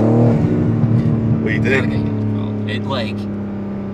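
BMW M4 G82 engine idling and revving lightly at low throttle, a steady low rumble heard from inside the car while people talk over it.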